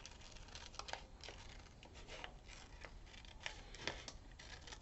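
Paper being cut into a small teardrop shape, with soft snips and crinkles coming in irregular bursts, close and quiet, with no talking.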